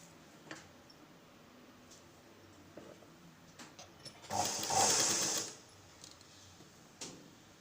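A sewing machine runs in one steady burst of about a second, stitching a blouse hem, with faint ticks and handling noises before and after in an otherwise quiet room.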